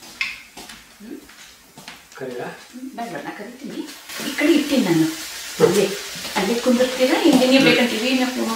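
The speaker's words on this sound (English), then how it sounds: "In a small pan, I have oil for deep frying." Karad vadapi dough deep frying in oil in a small pan, a soft steady sizzle that swells and grows busier in the second half, beneath someone talking.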